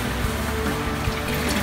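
Hydrogen peroxide solution drains and trickles out of a lifted strainer of hydroponic grow medium, a steady close watery pour with no talk over it.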